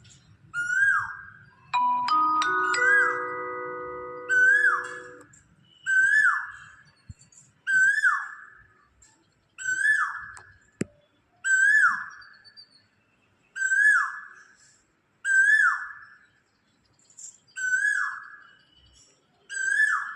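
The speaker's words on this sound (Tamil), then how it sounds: "அது காலங்காலமாக மதுரை சித்திரை திருவிழா டயத்தில் இந்த குருவி கத்துங்க." A small bird (kuruvi) calls during the Chithirai festival in Madurai with regular, sharp whistled notes repeated about every second and a half, with a few longer sustained whistle tones early on and little else around.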